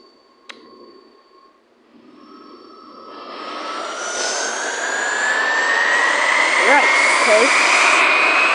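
An aircraft engine in the video game SimplePlanes spooling up to full throttle, building from a quiet start into a loud, steady jet-like roar that keeps rising in pitch, with a person talking over it.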